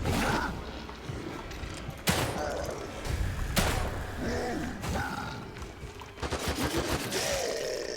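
Gunfire in the survival-horror video game The Evil Within 2 sounds as repeated sharp shots and heavy thuds over a dense game soundscape, mixed with in-game mechanical noises.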